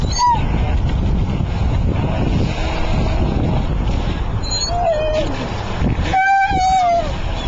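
Remote control boats race on open water, their buzzing motors whining up and down in pitch over heavy wind and water noise, with a couple of sharp high tones cutting through near the end; voices can be heard in the background.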